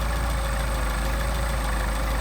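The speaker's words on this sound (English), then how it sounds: "Engine starts to stumble." Mercedes 190SL engine fitted with Solex carburetors idles unevenly and stumbles, a steady close mechanical drone with rough low-end pulsing and no talking.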